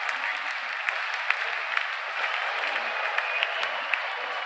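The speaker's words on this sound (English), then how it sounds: "greeted with a loud cheer from the crowd." Spectators clap and cheer as the openers walk out at the 2019 Cricket World Cup match between Australia and England, a steady, moderately distant crowd roar with scattered sharp claps.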